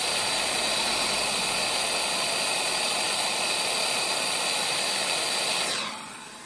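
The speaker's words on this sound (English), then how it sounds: "continue to heat a little bit longer before you pull away the torch" A brazing torch heats a steel plate with a loud, steady roaring hiss that holds evenly close up before abruptly dropping away near the end, with no talking.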